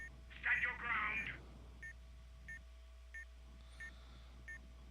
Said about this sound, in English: Why am I beeping so crazily?